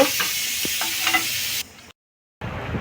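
Potato and paneer pakoras frying in hot oil, a steady, close hiss and sizzle with small crackles for about a second and a half, then a sudden drop to near silence before the sizzling resumes.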